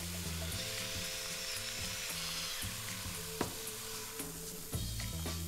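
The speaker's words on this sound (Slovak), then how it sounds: "Premiešame a ďalej restujeme, kým sa mäso zatiahne." Pork shoulder sizzles steadily while being sautéed and stirred in a pot, a continuous frying hiss broken by a few sharp utensil knocks against the pot, close and with no talking.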